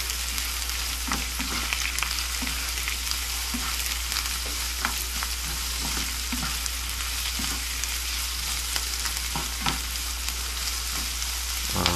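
Pork and pechay sizzle and fry in a pan as a spatula stirs them, a steady hiss with repeated scraping strokes running throughout, close and continuous.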